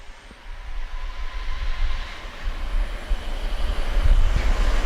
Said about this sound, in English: his jet dryer just came to life